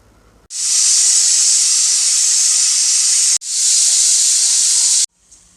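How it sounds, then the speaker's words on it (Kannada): Steam from a pressure cooker on a medium flame while cooking naati-style pulao hisses loudly in two long, steady bursts with a brief break between them, then cuts off abruptly. "ಇವಾಗ ಕುಕ್ಕರನ್ನು ಕ್ಲೋಸ್ ಮಾಡಿಬಿಟ್ಟು ಮೀಡಿಯಮ್ ಫ್ಲೇಮಲ್ಲಿ ಎರಡು ವಿಷಲನ್ನು ಕೂಗಿಸ್ಕೊಳ್ತೀನಿ"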